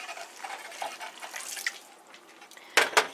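Liquid stock pours into a cooking pot in a kitchen, a soft, faint splashing and trickling that comes and goes. Two brief louder splashes sound near the end.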